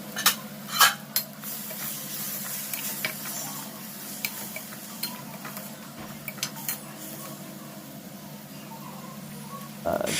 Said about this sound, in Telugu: బ్రౌన్ కలర్లో వేయించుకున్న ముక్కలు తీసుకొచ్చి అటు ఇటు కలుపుకొని ఉడికించుకోవాలి